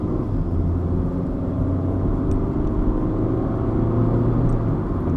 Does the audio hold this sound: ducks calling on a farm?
no